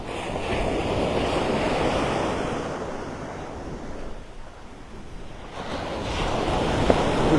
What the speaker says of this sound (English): Those waves kicking up the serotonin.